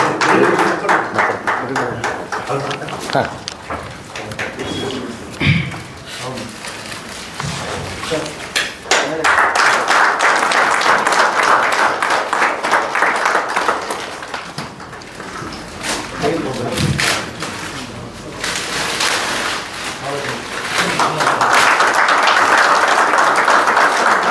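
Audience applause at a newspaper calendar release event, sustained clapping for most of the stretch with brief lulls and a spoken voice over a loudspeaker.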